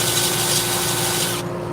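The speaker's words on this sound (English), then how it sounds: "I'm doing something I almost never do, and that's sanding on a live." Wood is sanded by hand close up, a loud steady scratchy rubbing that stops abruptly near the end, with no talking over it.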